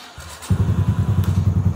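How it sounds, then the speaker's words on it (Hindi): A Yamaha YBR125 motorcycle engine starts after a brief quiet moment and settles into a steady, close, throbbing idle with a regular low pulse. "बाइक हमारा जो है माशाल्लाह से ऑन हो चुका है"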